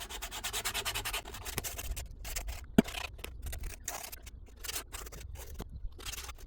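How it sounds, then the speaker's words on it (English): Rough sandpaper rubbed over a felt wading boot sole during repair, close rhythmic scratchy strokes with short pauses and one sharp knock. "So I've got some rough sandpaper here. I'm just gonna gently rub over it"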